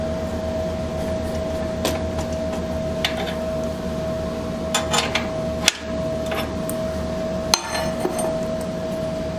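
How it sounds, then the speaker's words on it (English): A 7/8 wrench works a bolt on an Excelsior-Henderson Super X motorcycle, giving a handful of sharp metallic clicks and knocks scattered over a steady background hum. "This wrench size is 7/8."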